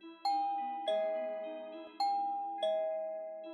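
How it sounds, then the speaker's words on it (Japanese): A doorbell chime rings in the night, sounding four clear ding-dong tones in a row, each one ringing out and fading before the next strike, with no voices. "チャイムが鳴っていました。"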